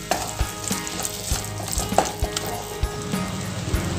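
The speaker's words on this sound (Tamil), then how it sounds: "இப்போ மசாலாவை நல்லா கலந்து கொடுத்துட்டேன்" Masala for egg gravy sizzles steadily in a hot pan while a utensil scrapes and knocks against it in an uneven stirring rhythm, close up.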